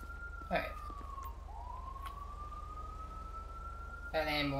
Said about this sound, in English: That ambulance is not having a good time.